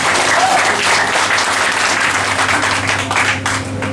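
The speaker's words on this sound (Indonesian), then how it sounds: "Tepuk tangan betul." A crowd at a stage event claps loudly and steadily at close range, the dense applause continuing for a few seconds with faint voices mixed in.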